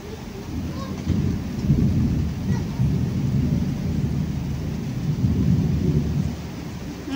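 Low thunder rumbles steadily beneath a continuous wash of rain, the rolling booms swelling and fading close by.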